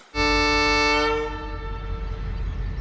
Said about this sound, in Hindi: सुबह 135 अप का डिपार्चर हॉर्न हो गया।